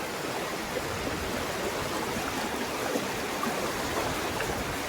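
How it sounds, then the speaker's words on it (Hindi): Strong flow of the Narmada river, heard as a steady broadband rush of moving water, continuous and even throughout with no voices. "बड़ा बहाव है, बहुत ही।"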